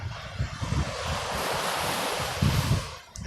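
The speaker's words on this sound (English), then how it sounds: "I need to be with these waves" Pacific Ocean waves breaking on the shore, a continuous surging wash with low rumbling swells rising and falling, mixed with gusty wind buffeting the microphone and no voices.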